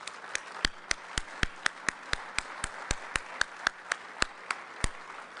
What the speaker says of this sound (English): please give us a warm round of applause